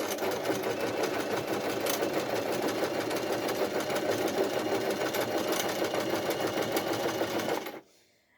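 A foot-pedal sewing machine runs steadily at a gentle speed, a continuous close mechanical whir and needle chatter lasting several seconds before stopping abruptly.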